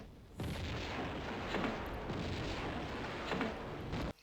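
Grenade explosion in the Tomb Raider 2 video game, a single loud burst that opens into a sustained rumbling roar for several seconds before cutting off abruptly.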